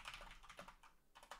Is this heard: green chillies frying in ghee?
no